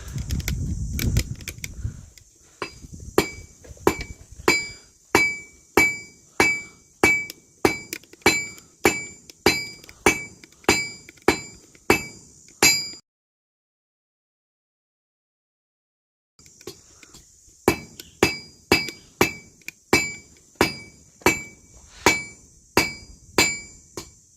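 Hammer striking hot steel hooks on a solid steel anvil, a long series of sharp ringing clanks in a steady rhythm, each blow bright and metallic, broken by a few seconds of silence before the strikes resume, close and loud.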